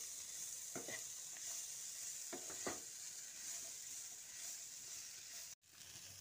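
Shredded cabbage and mixed vegetables stir-fried together in a pan as filling for vegetable spring rolls, giving a steady soft sizzle with a few brief scraping stirs and a short dropout near the end; no talking.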